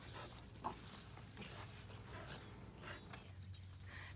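Dogs at home whimper, pant and give a few small yips in a soft, continuous jumble of close animal sounds with light room noise.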